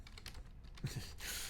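Brief, busy typing on computer keyboards during a streamed Jackbox game: close, overlapping key clicks packed into a short burst with no voices.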